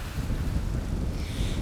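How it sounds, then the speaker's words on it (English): Strong gusty wind buffets the microphone at an exposed camping spot in Mexico, a loud, continuous low roar with rising and falling gusts and no voices. "as you can see, it's a little bit too windy for comfort."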